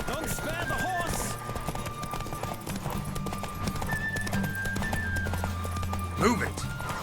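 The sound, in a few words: horse galloping in a video game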